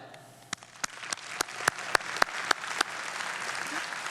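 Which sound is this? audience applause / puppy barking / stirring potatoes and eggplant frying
audience applause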